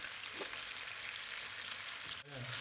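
Spam slices fry in a pan over low to medium heat, making a soft, steady sizzling hiss heard close up, with a brief clatter near the end and no talking.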